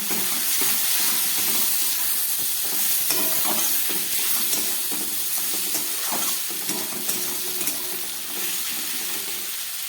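Green beans and potatoes frying with a little cumin in a pan, a continuous close sizzle and hiss with scattered stirring clicks and pops, no voices.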